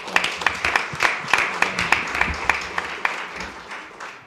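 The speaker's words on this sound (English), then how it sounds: "I think we should give a round of applause for" Applause from an audience at a county freeholders' ceremony honoring a high school marching band, moderate clapping with distinct sharper claps standing out, steady throughout.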